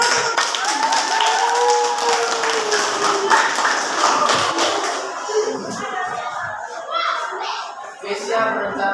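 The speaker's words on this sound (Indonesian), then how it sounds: "Oke, kasih tepuk." Schoolchildren in a classroom clap together in a steady, rapid patter of many small hands, with young voices calling and chattering over and after the clapping.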